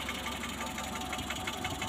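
An idling engine gives off a steady, rapid mechanical tapping, thought to come from a worn camshaft or a loose piston pin bushing, heard close and continuous with no talking.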